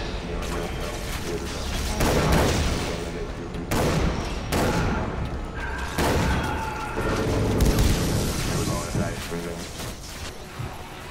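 Gunfire and explosions from Far Cry 3 Blood Dragon come in dense bursts of booms, crashes and mechanical clatter, loud and close, with a voice talking over the action.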